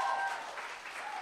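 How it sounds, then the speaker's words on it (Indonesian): A church congregation claps together during a sermon, a short, dense burst of applause filling the room at moderate volume. "Yang setuju berikan tepuk tangan buat Tuhan."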